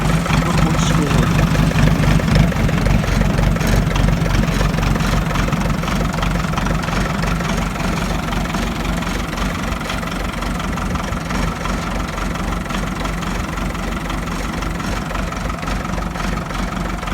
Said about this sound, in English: Got a little bit of a hunt on the throttle. It's injected